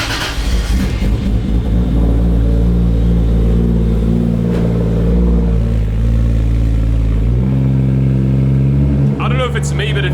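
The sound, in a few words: cold start of a 450hp 1JZ Toyota Chaser on ethanol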